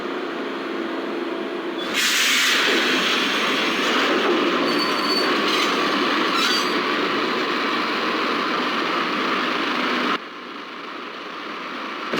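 A train in the Max Payne video game rumbles loudly along the rails with squealing wheels and a dense roar that holds steady, then drops off abruptly near the end.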